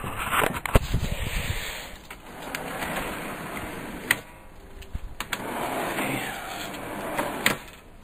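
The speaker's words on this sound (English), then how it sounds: "I'll show you it moving, sliding in and out now." Wooden under-bed storage drawer slid in and out on its framework, giving repeated rolling, scraping runs with sharp knocks at each stop, close and moderately loud.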